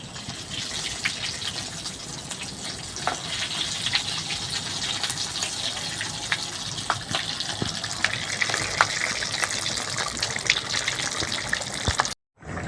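Katla fish cutlets sizzle steadily in hot oil, a dense, continuous crackle and hiss that holds at an even level for most of the stretch before a brief dropout near the end.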